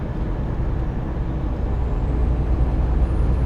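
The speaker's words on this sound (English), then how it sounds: "I can hear the whine of the turbo, so it is working." A working truck turbo whines over a loud, steady engine rumble, heard up close as a faint rising tone above the low drone, with no talk.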